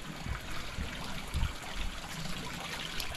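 Water flushes through the outboard engines of a freshly washed boat, a steady low splashing and trickling rush that runs on without pause at moderate level.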